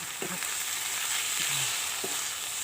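Spicy paddy eel stir-fried in a hot pan, sizzling steadily throughout, with a few short clanks of a spatula stirring the pieces.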